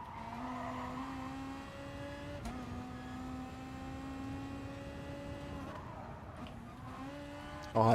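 Car in GT Sport, a Beetle race, with its engine note sliding down under hard braking and a faint tire squeal, a steady loud drone with a few shifts, then a short burst of voice at the very end.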